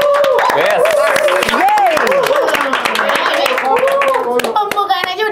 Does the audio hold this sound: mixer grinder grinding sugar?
no